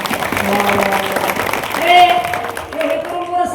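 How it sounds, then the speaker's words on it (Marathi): A seated audience at a Marathi kirtan applauds the young people present, a moderate wash of clapping running throughout with voices and crowd murmur mixed in. "यांच्यासाठी टाळ्या वाजवायचा जोरात"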